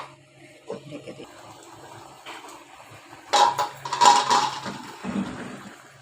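A metal lid clanks onto a cooking pot of pabda fish curry simmering on a home stove, a sharp clatter standing out from quieter kitchen clinks and a low simmering hiss.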